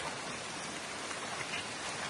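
Rain falls steadily outdoors on a hiking trail during a camping trip at Bukit Ayer, a soft continuous hiss of drops on surfaces, even and fairly quiet throughout with no voices.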